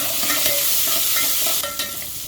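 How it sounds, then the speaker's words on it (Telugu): Crushed shallots sizzling in hot oil in a pan for a tomato charu tempering alongside dried red chillies, a loud continuous frying hiss with light stirring scrapes and no talking. "ఉల్లిపాయల్ని ఎర్రగా అయ్యే వరకు వేపుకోండి"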